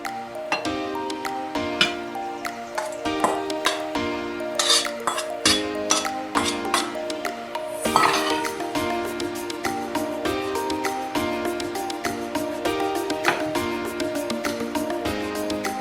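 A spoon clinks and scrapes against a bowl while snapper ceviche is mixed with fresh orange juice, giving repeated bright metallic taps and stirring clatter at close range with brief pauses between bursts.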